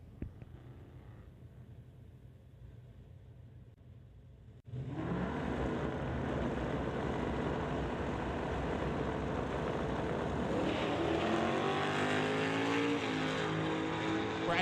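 A 1970 Barracuda and a 2019 Mustang launch in a drag race, engines rumbling low before a sudden loud roar that stays sustained and revving hard as the cars pull away.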